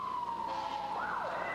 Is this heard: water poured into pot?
no